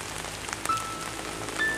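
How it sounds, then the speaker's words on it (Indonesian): Heavy rain pours down steadily around an abandoned house, a dense, even wash of drops close by with no voices. "Tuh, hujannya mulai besar tuh"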